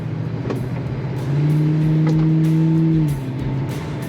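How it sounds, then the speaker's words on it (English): A 1975 Oldsmobile Cutlass Hurst/Olds W30 engine revs up and accelerates, a steady droning hum rising into a stronger, louder tone for a couple of seconds before easing back. "Plenty of acceleration in this car."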